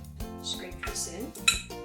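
A utensil scrapes a sticky peanut butter and flaxseed mixture into a crock pot, giving soft scraping strokes with a few light clinks against the pot.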